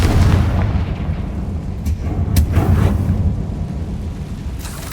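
Confringo spell explosion in Hogwarts Legacy, a loud, deep boom followed by rumbling and a few sharp cracks that fade over several seconds.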